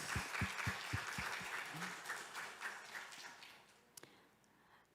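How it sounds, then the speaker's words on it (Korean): A church congregation at a Friday evening worship service claps together, a burst of applause that starts with a few distinct claps and then fades out. "박수 한번 부탁드려도 될까요?"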